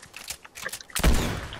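Suppressing gunfire in Fortnite: a few scattered shots, then a loud, dense burst of rapid fire that starts just before the one-second mark and keeps going to the end.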